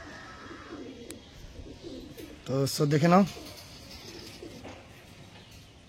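Kalanka pigeons, a paired male and female, coo in a short throaty burst near the microphone while someone speaks briefly over soft background noise.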